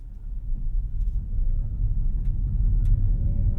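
Hyundai Ioniq 6 Limited AWD electric car slowing to a stop in one-pedal drive with no brakes touched, heard as a steady low road rumble and faint motor whine from inside the cabin.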